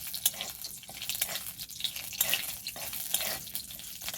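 A bay leaf sizzles in hot oil in a pan while a spoon stirs it for a village-style spinach dal, with steady frying crackle broken by uneven scraping strokes and no talking.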